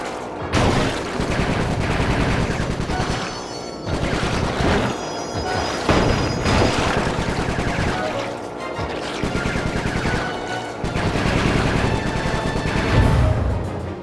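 Gunfire in the video game Sly 3: Honour Among Thieves comes as loud, dense, continuous volleys with heavy blasts and crashing impacts, sustained for over ten seconds with only brief dips.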